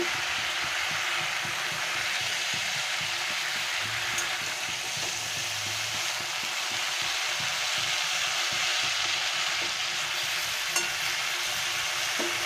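Pumpkin greens cook in a pan while salt is mixed in, a constant close sizzling hiss with faint, soft stirring scrapes running underneath for several seconds.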